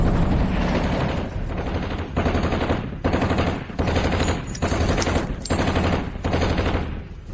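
Heavy automatic gunfire erupts in repeated bursts, roughly a half-dozen loud, close volleys separated by brief gaps, with rapid rattling shots and sharp metallic accents near the middle.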